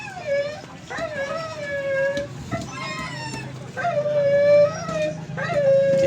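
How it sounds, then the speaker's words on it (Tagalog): A dog whimpers and yips in a run of high, drawn-out whines and short howl-like cries, close and fairly loud, with faint voices and background noise beneath. "Ingay na naman yung aso"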